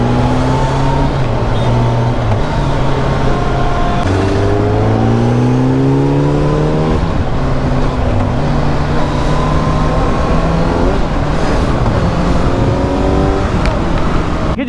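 A Kawasaki Z900 motorcycle accelerates hard on a night ride along a mountain road toward Mussoorie, its engine climbing through rising throttle sweeps with gear changes, loud and continuous throughout.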